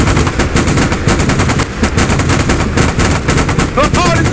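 Helicopter cannon fire in the DCS combat flight simulator, an Apache or Kiowa Warrior strafing a convoy, loud and continuous rapid bursts throughout with a faint voice underneath.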